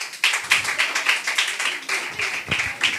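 Children at a Sunday school clap together in a quick, fairly regular rhythm, the sharp claps close and loud, repeating steadily for several seconds without talk.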